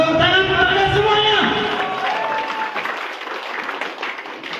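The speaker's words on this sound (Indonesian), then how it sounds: "Tepuk tangan kepada semuanya" Audience applause at an Indonesian business seminar swells loudly at the start, then thins into scattered clapping and crowd murmur. Speech carries over it throughout.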